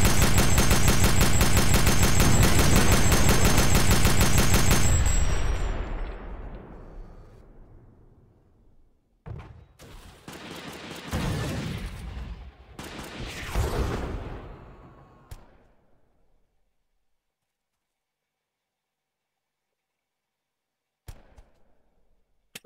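Shooter video game gunfire: a loud, dense burst of rapid fire up front that fades into echoing shots and scattered reports, trailing off to near silence with a couple of faint late cracks.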